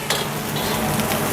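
Nasi goreng with rice mixed with noodles stir-fried in a busy street stall's wok, a steady close sizzle with scraping stir strokes and no talk.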